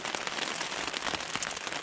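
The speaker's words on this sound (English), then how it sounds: "The rain just started coming down more ferocious." Heavy rain pounds steadily on a tent pitched on a hillside, a dense close patter of drops with no pauses, loud and continuous.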